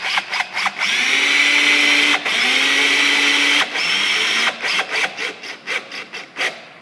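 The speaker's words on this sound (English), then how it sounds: "take a Robertson bit, put in the drill, go down to speed number 1, and drive the screw in" Drill on speed 1 driving a screw with a Robertson bit, a close whirring motor in long sustained runs with brief pauses, ending in short stuttering bursts as the screw seats.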